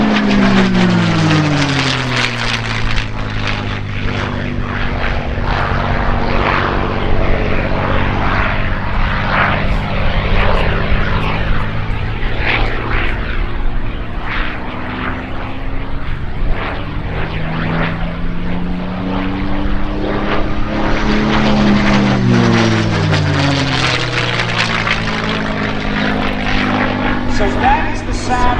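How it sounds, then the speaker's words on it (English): A P-51 Mustang with a Rolls-Royce Merlin engine roars past in a long, loud flyby at an air show, its drone rising and falling in pitch as it approaches and recedes. "So that is the sound of the Merlin engine."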